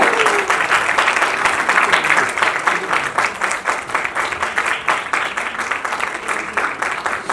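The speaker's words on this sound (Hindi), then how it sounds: "अरे तालियां थोड़ी जोर से बज सकती है कि नहीं भाई?" An audience at a music label launch event applauds steadily, dense and continuous clapping that fills the room without a break.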